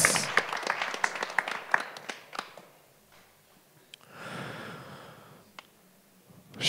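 Scattered applause from a small crowd at a press conference for a GAMA fight event, the claps sparse and uneven, fading out midway, with some background noise and stray voices.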